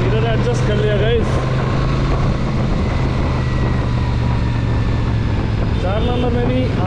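A Royal Enfield Super Meteor 650 cruiser motorcycle cruises on an Indian highway in fourth gear, its engine a steady low drone mixed with loud wind rush, while a rider talks over it.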